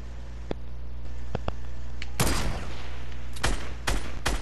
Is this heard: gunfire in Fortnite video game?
yes